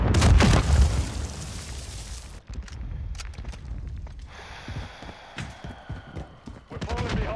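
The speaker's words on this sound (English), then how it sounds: "Throwing a stun grenade!" A stun grenade detonates in Modern Warfare III multiplayer with a loud, close boom that rolls on for about two seconds. Softer battlefield clatter, scattered pops and faint voices follow.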